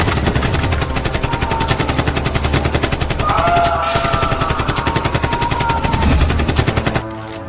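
Sustained rapid machine-gun fire from an action movie scene, loud and continuous with dense overlapping bursts for several seconds before cutting off abruptly.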